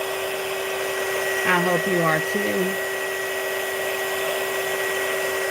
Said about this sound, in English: I'm just heating up this sticker to get it off of my cup. And I got my heat gun on